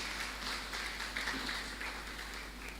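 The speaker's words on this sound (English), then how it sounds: "Let's give a round of applause to Reverend Mbogo." Faint, steady applause from a seminar audience at a church trauma healing event, a soft continuous patter of clapping with a low hum underneath and no voices.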